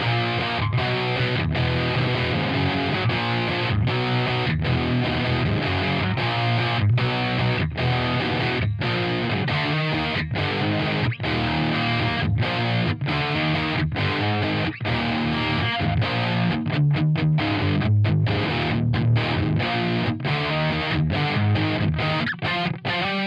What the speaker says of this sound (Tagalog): ito yung tunog ng aking gitara na naka-distortion effect